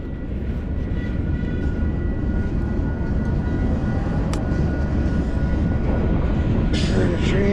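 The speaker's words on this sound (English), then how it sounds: "There's a train right there, folks." Train passing at a distance near a self-serve car wash, a steady low rumble that holds evenly and swells slightly toward the end.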